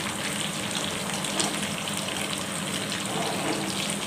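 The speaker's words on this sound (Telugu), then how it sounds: "రెండో వైపు కూడా తిప్పుతున్నాను నేను. ఒకవైపు వేగిపోయింది, ఇప్పుడు రెండో వైపు వేయించుకున్నాను." Fish fried in a pan of oil just after being turned to the other side, with a steady, close, even sizzle running throughout and no talking.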